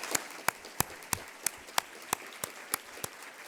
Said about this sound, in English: Let's give her a round of applause and congratulate her.